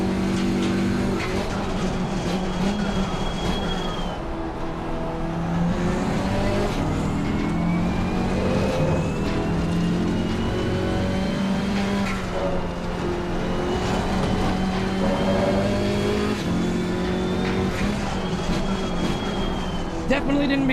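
A damaged GT4 race car engine at Kyalami in the game Assetto Corsa Competizione revs steadily up and down through gears, loud and continuous, with a voice talking over it.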